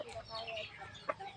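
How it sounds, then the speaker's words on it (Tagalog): Several chickens clucking softly at a farmhouse, faint and somewhat distant, with one sharper cluck standing out near the end amid quiet background chatter. "Dami na lang manok."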